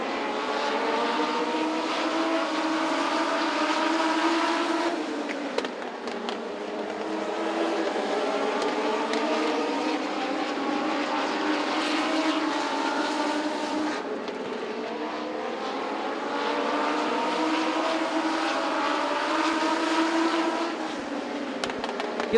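Legends race cars roar around the Southside Speedway oval in a pack, engines droning steadily with rising and falling pitch as cars run side by side down the front stretch, loud and continuous throughout.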